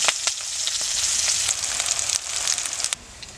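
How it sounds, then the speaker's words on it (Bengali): Chopped onion and green chili fry in hot oil with cumin seeds in a wok, giving a close, loud, continuous sizzle broken by crackles and occasional stirring scrapes. "আমার পেঁয়াজগুলো লাল লাল করে ভাজা হয়ে গেছে"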